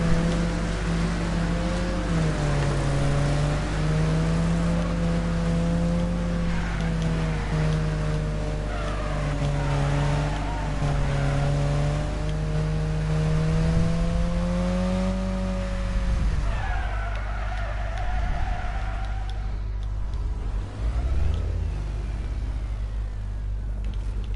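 BriSCA V8 Hotstox race cars in a racing game run at a steady engine drone behind a pace car, the pitch wavering and rising slightly as they roll along, then tapering off near the end, continuous and fairly loud.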